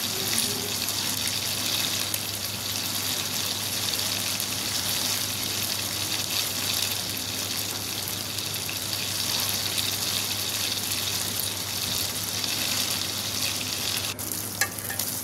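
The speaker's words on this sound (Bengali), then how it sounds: "এবার তেল গরম করে মাছগুলো সুন্দর করে লাল লাল করে ভেজে নেব।" Fish fry in hot oil, a dense, steady sizzle that stays loud and close for the whole stretch without pause or voices.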